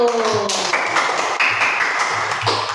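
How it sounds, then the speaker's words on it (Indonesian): A group of children claps hands in a loose burst, with a few bright tones and a voice briefly audible near the start. "Mari tepuk tangan dulu."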